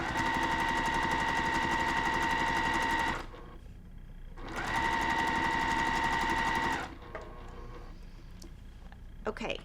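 A sewing machine stitches a cross stitch pillow top, running in two loud, steady bursts of a few seconds each, separated by quiet pauses with faint handling noise.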